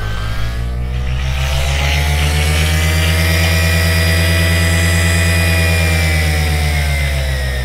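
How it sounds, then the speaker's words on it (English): A paramotor engine runs steadily and loud, its buzzy harmonic drone holding a constant pitch throughout with no talk over it, just after a preflight check before a sunset flight. "That is a great sounding motor."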